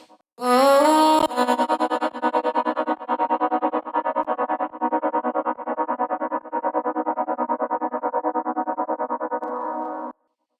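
A vocal tone processed with an Ableton flutter effect stutters in rapid, even pulses, a loud wobbling flutter that repeats steadily for several seconds before cutting off.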